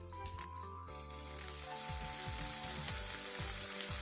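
Chopped tomato sautés in a pan for peerkangai (ridge gourd) kulambu, giving a steady close sizzle that grows slightly louder as it goes, with faint tonal background sounds underneath.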